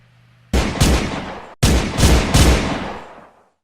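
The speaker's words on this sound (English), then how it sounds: "gunshots emerged in the air" Two loud bursts of gunfire on a South Philadelphia street, each a quick cluster of sharp cracks with a short gap between them, ringing out and fading with echo.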